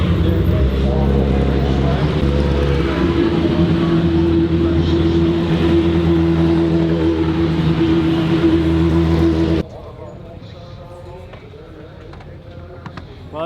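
LMP2 race cars rumble along a wet racetrack on a reconnaissance lap at an IMSA race, a loud droning engine roar that cuts off abruptly, with a commentator talking throughout.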